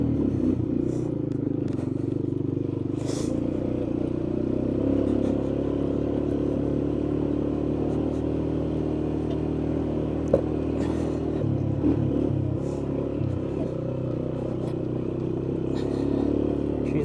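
An old three-wheeler ATV engine runs continuously at close range, a rough steady mechanical drone with scattered clattering and scraping knocks over the top.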